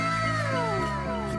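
A cat gives a drawn-out, wavering meow with pitch sliding downward, close and clear, during a virtual meeting.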